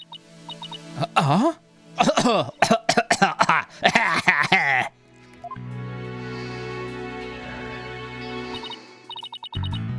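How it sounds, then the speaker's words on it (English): A video game character coughs in a rapid run of harsh, bursting coughs, then the sound drops away to a sustained tonal background with a brief burst at the end. "I always seem to go into coughing fits whenever I get nervous."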